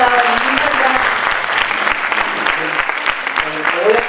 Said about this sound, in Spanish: les pido nuevamente un aplauso, por favor